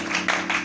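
A church congregation claps in acclaim of Jesus during a French-language service, three loud bursts of hand claps swelling in quick succession over a steady background hum.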